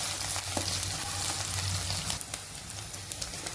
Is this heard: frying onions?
yes